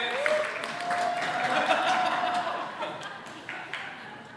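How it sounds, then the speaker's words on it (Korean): Church congregation clapping during a Korean sermon, a moderate, steady round of applause lasting several seconds with some light chuckling mixed in. "저 야가 제일 크게 박수 쳤다."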